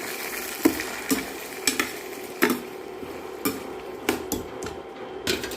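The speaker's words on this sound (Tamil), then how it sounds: "இஞ்சி பூண்டு மசால் போட்டுடலாம் எல்லாத்தையும் போட்டு ஒரு துண்டு திரும்பி விட்டுணும்" Ginger garlic masala fries in oil for prawn thokku, a soft continuous sizzle broken by repeated sharp clanks and scrapes of a spoon stirring against the pan, close up with no talking.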